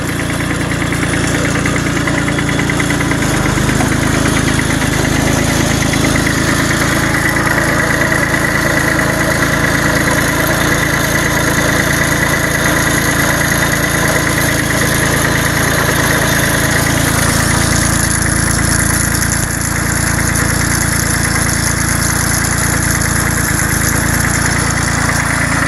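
A Bolens Iseki H1502 diesel tractor idles after a snowy cold start with a loud, steady, close-up knocking clatter that runs continuously with slight shifts in tone.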